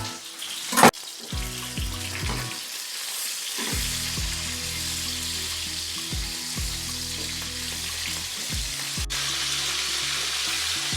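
Chicken sears in a frying pan with a steady, loud sizzle throughout, broken by a sharp clatter near the start and faint scraping and stirring sounds.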